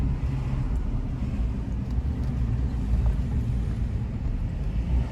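Steady low road rumble of a car cruising after rust was cleared from its brake rotors, with wind noise over the microphone and no grinding standing out; continuous and fairly quiet, with no voices.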